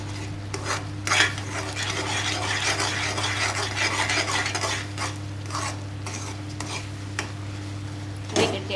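Raw rice is poured a little at a time into a cooking pot, giving a continuous grainy, scraping clatter. A low steady hum runs underneath, and there are a few sharper metallic knocks.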